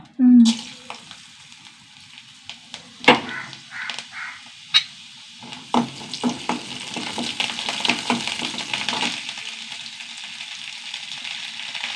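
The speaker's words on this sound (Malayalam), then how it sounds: "കുറച്ച് വെളിച്ചെണ്ണ വെച്ചിട്ട് വെളിച്ചെണ്ണ ചൂടാവട്ടെ ഞാൻ ചൂടായി ഒരു ടേബിൾ സ്പൂണ് ഉഴുന്ന് പരിപ്പ് ഇട്ടാ" Urad dal frying in hot coconut oil for a chutney, a close crackling sizzle with repeated sharp spoon scrapes and stirring clatter, and a faint voice at the start.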